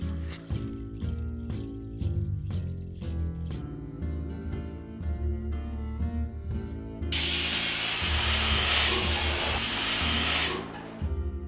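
A pressure cooker on the stove cooking rice milk payasam hisses out steam. Irregular clicking and rattling comes first, then a loud, steady, close hiss lasts about four seconds and cuts off abruptly.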